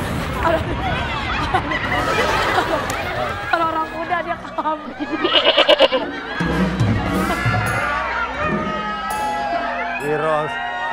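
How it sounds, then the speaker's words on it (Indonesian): A goat or sheep bleats on a TV comedy show stage amid a noisy studio crowd, its short wavering cries rising over constant chatter and laughter. "Wiros, sejak kapan Wiros Sableng naik kambing? Naik domba"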